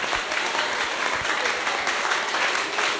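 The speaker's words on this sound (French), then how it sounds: "Les amis, applaudissez fort!" Loud, dense applause from an audience at a primary school visit, a continuous wash of clapping hands filling the whole stretch without pause and with no speech over it.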